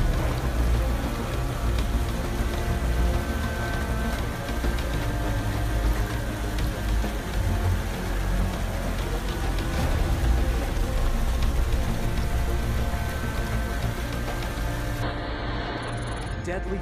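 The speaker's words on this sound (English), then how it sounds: "85 millimeters of rain fell in just 2 hours," Heavy downpour during a flash flood, a dense, loud, continuous hiss of rain striking surfaces, with a broadcast voice speaking over it.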